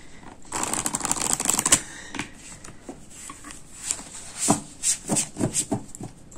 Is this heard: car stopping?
no